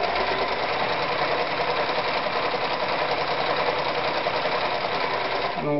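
A Privileg Super Automatik 5021 sewing machine runs steadily at normal stitch length, a dense continuous mechanical chatter with a fast regular needle rhythm, loud and close, ending abruptly at the close.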